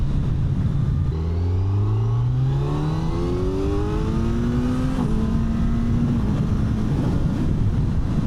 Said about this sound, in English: the intake sounds quite good when you get on